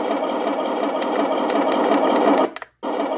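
Engine sound effect from a toy T-90 tank, a steady buzzing, mechanical whir that runs continuously and fairly loud, then cuts off abruptly near the end before a brief restart.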